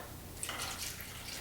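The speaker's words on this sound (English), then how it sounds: "I'm putting 1 cup of cornmeal, and I'm putting 1 cup of cold water" Cold water is poured onto cornmeal in a pot on a stove that is not yet lit, making a faint, soft trickle with a few small drips and splashes, heard close up and without talk.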